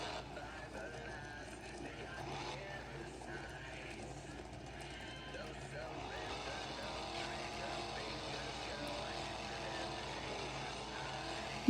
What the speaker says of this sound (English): His engine is turned on, and he's ready for Gravedigger